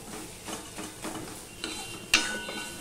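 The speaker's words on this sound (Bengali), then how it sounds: "দেখো তেলের সাথে পোস্তটা আমি ভেজে নিচ্ছি।" Poppy seeds fry in oil in a pan, giving a faint, low sizzle broken by soft scraping stir strokes and one sharper metallic scrape, with no voices.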